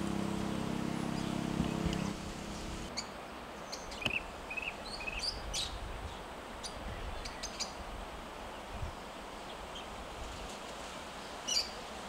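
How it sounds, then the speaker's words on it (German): Birds call and chirp sporadically at a camp near Epupa Falls in Namibia, faint, high and scattered over a steady low outdoor hum, with no talking. "An den vielen verschiedenen Vögeln, deren Namen ich euch meistens leider nicht nennen kann, an ihren Farben, ihren Rufen und Gesängen erfreue ich mich hier im Camp Corny"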